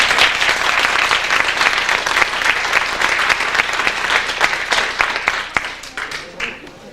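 Loud applause from guests at a Winter Carnival ball in honour of the kitchen staff after the meal, many hands clapping densely before thinning out and fading over the last second or two.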